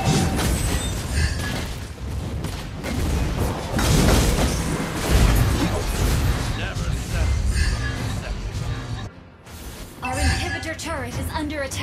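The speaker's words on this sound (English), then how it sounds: "Our turret has been destroyed." A turret is destroyed in an online battle game, bringing dense booms, crashing impacts and mechanical clatter that rise and fall over several seconds amid busy game effects and an announcer voice.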